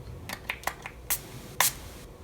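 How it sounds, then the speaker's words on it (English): Makeup setting spray is spritzed onto a face in several short, sharp bursts, each a crisp hiss. The pumps come close together, the last two louder, and no one speaks. "why don't we check out this makeup setting spray"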